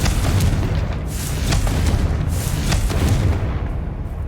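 Confringo fire spell blasts in the video game Hogwarts Legacy, with loud booming explosions and repeated bursts over a thick, continuous rumbling combat din lasting several seconds.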